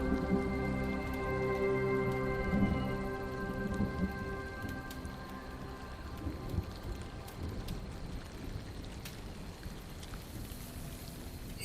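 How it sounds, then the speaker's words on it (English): A storm pours steady rain with low rolling thunder rumbling through the first seconds, then settling into a dense, even hiss of rainfall with occasional drips, no voices. "the strength of the storm raging outside"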